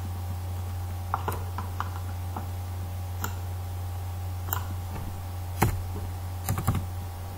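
Code is typed on a computer keyboard in scattered clicks and short bursts of keystrokes over a steady low electrical hum, with no voices.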